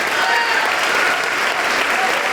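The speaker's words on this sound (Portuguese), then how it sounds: "Vamos aplaudir mais ao nome de Jesus." Congregation applauding in a church service, a dense continuous wash of clapping at steady loudness with faint voices mixed underneath.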